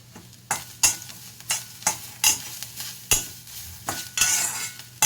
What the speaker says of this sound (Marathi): आता कांदा भाजत आलेला आहे तर त्याच्यामध्ये टमॅटो घालते मी